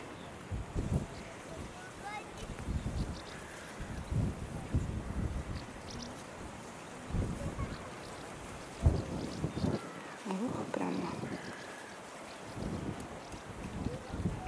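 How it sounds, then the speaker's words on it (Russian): Strong wind buffets the microphone in rumbling low gusts that rise and fall, outdoors by the elephants at Taigan park, with voices speaking faintly underneath. "ветер сильный поднимается."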